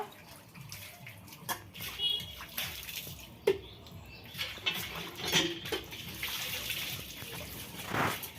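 Dishes being washed by hand under running water at home. Water splashes steadily while pots and cutlery clink and knock close by in irregular bursts.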